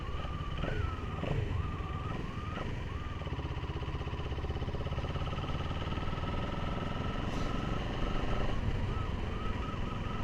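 A CF Moto CLX 700 Heritage motorcycle with a recurring fault rolls along with a steady, close engine drone and a wavering tonal whine that rises and dips over the continuous running noise.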